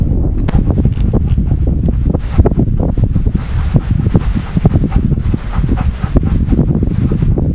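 Strong, cold wind over a frozen lake buffets the microphone in a steady, rumbling roar with gusty low thumps, loud and continuous throughout.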